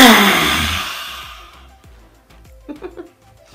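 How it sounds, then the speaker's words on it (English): A long, deep breath drawn in through the nose during Kali Breath pranayama yoga, a close, strong airy rush that fades over about a second and a half, followed by quiet with faint soft sounds. "big breath in through the nose."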